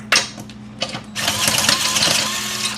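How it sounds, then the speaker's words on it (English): A small DeWalt gyroscopic power driver spins on a Saturn Sky's wheel lug nuts: a close, steady whirring hum with short bursts, then a louder sustained buzzing run for over a second. "It's a little gyroscopic DeWalt drill bit. It only spins whenever you turn it, so it works at all angles"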